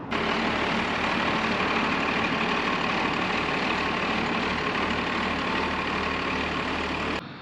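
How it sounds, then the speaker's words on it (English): A 1953 Kenworth bus engine runs steadily nearby, a loud, heavy low drone with a dense broadband roar as the bus is turned around, cutting off abruptly at the end. "my hoses don't reach, so I gotta spin the bus around and get a new spot for it"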